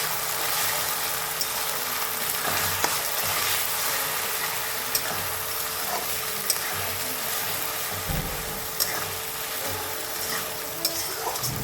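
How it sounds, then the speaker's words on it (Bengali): Ginger, garlic, onion and tomato paste fry steadily in a pan, a continuous close sizzle with scraping stirs and a few soft clinks of the utensil throughout, no voices. "আদা পেঁয়াজ রসুন টমেটো সব একসাথে ভালো করে কষে নেব।"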